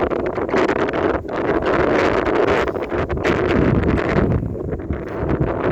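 Strong wind gusting across a hilltop pavilion in a park overlooking Iksan city, a loud, dense roar of buffeting against the microphone, steady with slight surges throughout.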